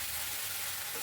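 Bottle gourd greens stirred in a hot wok after frying potatoes, a soft steady sizzle and frying hiss throughout, brief and quiet, no talking.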